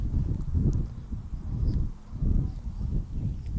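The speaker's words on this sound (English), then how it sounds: "Wind's starting to pick up here a bit." Wind gusts of up to 20 miles per hour sweeping an outdoor high school baseball field, Hopkins Academy versus Pittsfield; a deep, pulsing roar of air against the microphone rising and falling in uneven waves.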